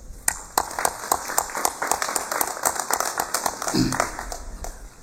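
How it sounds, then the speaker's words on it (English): Applause for a vice president at a formal gathering: a small group clapping briskly and unevenly for about five seconds, close and moderately loud, with a brief voice near the end. "so let's give them a round of applause"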